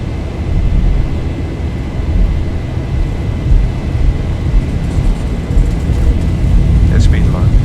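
Boeing 737 engines spool up for takeoff in the X-Plane 11 flight simulator, a loud, steady low rumble and whine that holds throughout, with a voice speaking over it.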